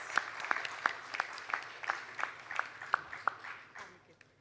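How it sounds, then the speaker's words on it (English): Audience applause in a conference hall at an air cargo industry conclave, a steady clapping crowd punctuated by sharp, rhythmic louder claps about three per second, with faint voices murmuring underneath. "Can we have a louder applause, please?"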